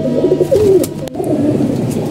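Pigeons kept by a breeder coo in low, soft, rolling calls, several overlapping phrases close by with no talk over them.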